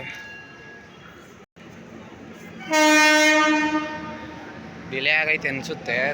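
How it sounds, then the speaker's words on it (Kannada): A loud, long train horn blares, then gives way to the rolling rumble and clatter of the Gnana Bharathi Express pulling into Yesvantpur railway station, Bengaluru. "ಟ್ರೈನ್ ಇವಾಗ ಬರ್ತೈತೆ ನೋಡಿ ಫ್ರೆಂಡ್ಸ್."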